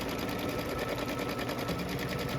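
A Baby Lock Altair sewing machine quilting runs with a steady, rapid, even stitching rhythm, close and continuous throughout, with no voices.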